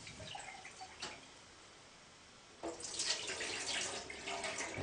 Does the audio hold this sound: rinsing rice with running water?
yes